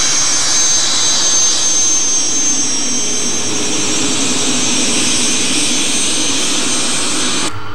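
A Learjet's jet engines run on the ground, a loud, steady whine and roar with a high-pitched tone that holds throughout and cuts off sharply at the very end, with no talking.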